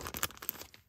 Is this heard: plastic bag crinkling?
yes